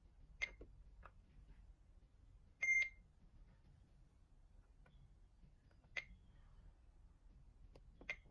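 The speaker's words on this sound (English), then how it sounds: "the board will beep to indicate to you that it is a wrong move" A Vonset M986 electronic chess board gives several short beeps at irregular intervals, one a longer sustained tone signalling a wrong move, over a faint low background hum.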